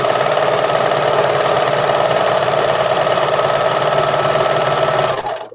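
A sewing machine runs a zigzag stitch in one steady, loud, rapid mechanical whir that holds for about five seconds and then stops abruptly.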